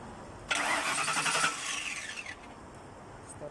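The starter cranks the engine of a Ford Grand Marquis that has a no-crank, no-start problem. A loud, close whirring burst runs for about two seconds, then tapers off into quiet garage ambience.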